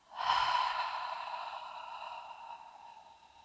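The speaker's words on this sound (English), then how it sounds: "And exhale out." A long, steady exhale through pursed lips in a beginners' energizing breathwork practice, one breathy outflow starting sharply and fading slowly over about three seconds, close and quiet with no talking.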